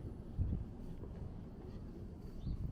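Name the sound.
wind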